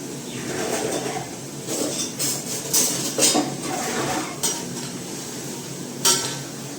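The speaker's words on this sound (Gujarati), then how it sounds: "ચાલો હવે મિક્સ કરશું ને ચડવા દઈશું ટમેટાને" A spoon stirs tomatoes with red chili powder and salt in a pan, scraping and clinking in irregular strokes with a few sharper metallic knocks over a low background hiss.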